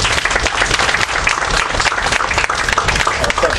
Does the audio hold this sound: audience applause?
yes